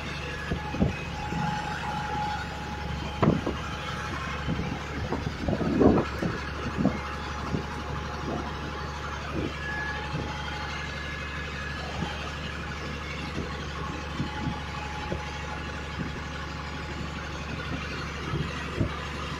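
A public boat's engine drones steadily throughout a backwater ride near Alappuzha, a constant low hum with occasional knocks and clanks, heard close and at moderate level.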